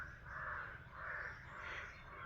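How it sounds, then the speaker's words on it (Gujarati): Faint bird calls from a distance, three harsh crow-like caws repeating at an even pace over quiet background noise, on a farmhouse in Sasan Gir, Gujarat, in the morning. "પક્ષીઓના કલબુલાટ જુઓ તમને અહીંયા સંભળાતા હશે બેકગ્રાઉન્ડમાં"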